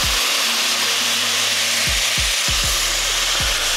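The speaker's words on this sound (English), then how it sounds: "So we got 4 cups of some chicken broth." Chicken broth poured into a pot for red beans and rice makes a steady, close rushing splash, with several low gurgling glugs from the container near the end.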